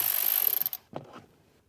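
Screw on a 2024+ Jeep Wrangler speaker being loosened, a fast ratcheting clatter that slows and stops, then one short scrape, close and clear.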